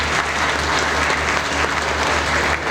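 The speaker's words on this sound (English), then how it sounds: "A big round of applause as 𝐻𝐵𝐿 Services is formally launched in Pakistan." Dense, even applause from a seated audience at a ceremony inaugurating HBL services in Pakistan, sustained throughout with a faint low hum beneath it.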